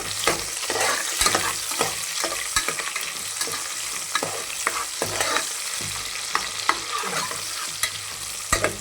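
Onions frying in oil with cloves and pepper for Telangana-style boti curry, a steady loud sizzle with repeated spatula scrapes and knocks against the pan throughout.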